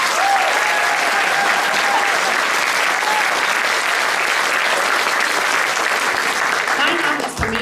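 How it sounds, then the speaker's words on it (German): Loud applause from a concert audience at a song contest in Moers, Germany, for last year's winning group: thick, continuous clapping at a steady level throughout that drops off abruptly at the very end. "Noch einen großen Applaus bitte."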